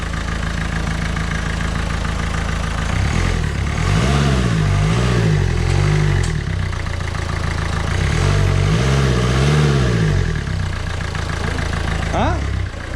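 Renault Twingo 2 with a 1.5 dCi diesel engine, idling loudly and clattering nearby, then blipped twice, each rev rising and falling back to idle, while people talk over it.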